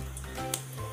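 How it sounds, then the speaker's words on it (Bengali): Bay leaf and panch phoron sizzling as they hit hot mustard oil in a kadai, a brief close crackle and squishy spatter with one sharp pop midway, no talk. "কড়াইতে সর্ষের তেল গরম করে নিয়েছি, এবার দিয়ে দিচ্ছি তেজপাতা, দিচ্ছি পাঁচফোড়ন"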